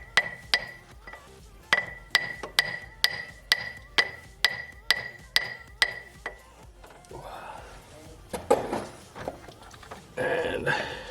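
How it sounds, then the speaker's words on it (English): A hammer taps a torch-heated crankshaft pulley on a Toyota 3.4L 5VZ-FE engine, about a dozen sharp metallic strikes in steady rhythm, then a few scattered knocks and clanks as the part loosens. "Tap on it."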